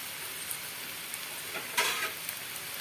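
Shrimp frying with onion and green chili in a pan in a home kitchen, a steady soft sizzle with occasional stirring scrapes and one brighter spatter burst partway through.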